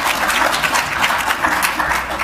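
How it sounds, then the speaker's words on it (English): An audience at a talk on digital media and culture applauds in a sustained, loud wash of many overlapping hand claps without pause. "It's impossible for the record to know which one of the two they were clapping for"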